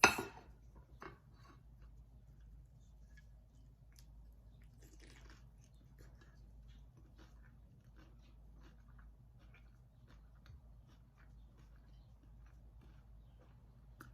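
Someone bites into crispy gluten-free tacos dorados and keeps chewing, giving a sharp first crunch and then faint, scattered crackles over a quiet room hum.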